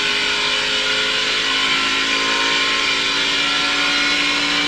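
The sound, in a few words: NASCAR Xfinity race car getting up to speed at Pocono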